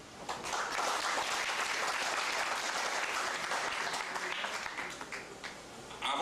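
An audience at a ceremony in Gonaïves, where the mayor presents the key of the city, breaks into sustained, even applause that fills the space for several seconds, then tapers slightly at the end.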